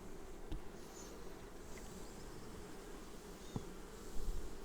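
Honey bees drone in a steady, close hum around an opened hive during an April inspection of brood and honey frames, with a few faint clicks and no talking.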